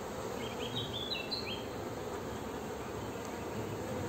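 Honey bees buzzing on a hive frame from an artificial swarm, a dense steady hum filling the whole stretch, with a few faint high chirps briefly above it and no speech.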